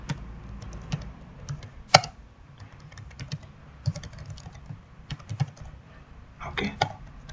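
Fingers type on a computer keyboard while entering a hosts file line during Apache virtual hosting setup, an irregular close patter of key clicks with short pauses and a few sharper strikes.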